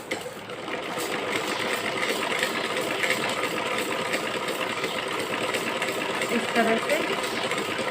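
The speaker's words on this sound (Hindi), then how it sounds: "फिर इसको फोल्ड करके हम इस पे ही वापस सिलाई करेंगे" A sewing machine runs steadily, stitching a folded kachli (bodice) seam back over a straight stitch, with a continuous whirring hum throughout and a voice speaking briefly over it.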